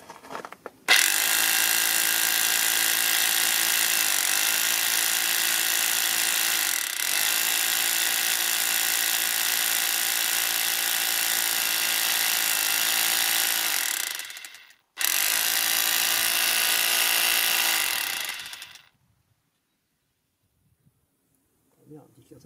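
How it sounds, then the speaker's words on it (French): A hammer drill in chisel mode pounds on a seized injector in a Mercedes C200. It gives a loud, steady rapid hammering for about fourteen seconds, stops briefly, then runs again before falling silent. "on le met, mais pas en mode rotation, en mode burin. Le but, c'est de créer une onde de choc"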